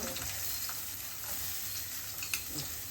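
Sliced onions and curry leaves fry in hot oil for a spicy crab masala, a loud continuous sizzle with a few sharp crackles and pops, no voices.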